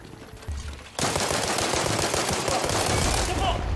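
Gunfire in a video game shooter, a brief shot followed by a sustained dense burst of rapid automatic fire, loud and continuous until the end.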